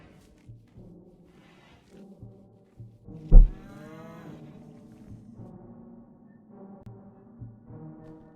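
Cows low in a video game on a dead planet, one loud rising moo standing out near the middle over soft thumps and low game ambience, with fainter lowing sounds scattered before and after.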